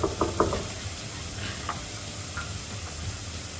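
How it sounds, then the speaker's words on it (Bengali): Onion frying in a pan sizzles steadily at a low level, with a few light clicks of a utensil stirring near the start and scattered soft taps afterward. "পেঁয়াজটা একটু করে নিয়ে একটু লালচে করে ভেজে নিলাম"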